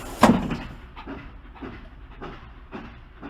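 A radio-drama train runs along the rails, with a sharp clack at the start followed by a rhythmic series of softer wheel-on-track beats at a steady pace, heard without speech.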